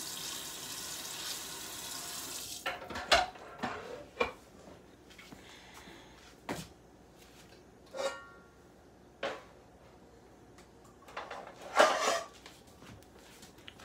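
Frying pan handled in a home kitchen, a few sharp metallic clanks and knocks at irregular intervals against a quiet background, with a brief hiss of running water at the start.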